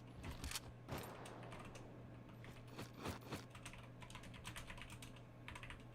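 Computer keyboard keys clicking during a gaming match, quiet irregular bursts of taps close by over a steady low hum, with no voices.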